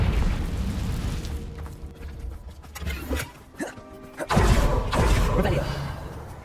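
Confringo fire spell explosions in Hogwarts Legacy, several booming, crackling bursts with a dip in between, then a big, loud blast near the end that sustains as a rumbling roar; speech is heard in the background.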